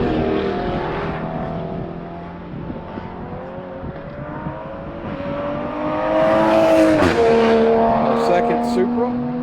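Race car on the Summit Point track during a morning session, engine droning and then rising in pitch as it passes close, loudest near the middle. A commentator's voice runs over it throughout.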